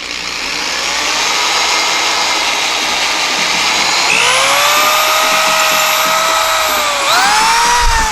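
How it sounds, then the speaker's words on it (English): A power drill drills a hole for a nail, whining loudly and continuously up close, its pitch rising and shifting as it bites in, then dipping and revving again near the end. "Drill it out using a drill bit for whatever size nail you're using."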